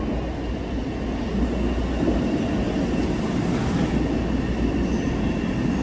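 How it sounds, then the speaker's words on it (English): A Boston MBTA Orange Line subway train rumbles steadily at North Station, a loud, continuous low roar of wheels and motors filling the underground platform with no pause. "There's the Orange train, line train right there."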